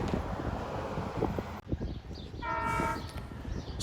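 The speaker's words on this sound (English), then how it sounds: "here is engine 420 pulling up" A Long Island passenger train locomotive pulls into Patchogue station with a rushing, rumbling roar, and a harmonic horn-like tone sounds briefly near the end.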